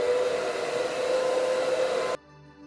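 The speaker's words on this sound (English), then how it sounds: "and then I'll go in and dry the gel on cool." Hair dryer on the cool setting drying gel on a curly wig, a close, steady whirring roar with a constant tone that cuts off abruptly near the end.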